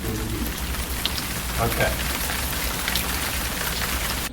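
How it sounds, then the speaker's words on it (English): Steady rain pours down in a school building wing, a dense, even hiss on surfaces that continues throughout, with a brief spoken word near the start. "There was some acid rain in the B wing"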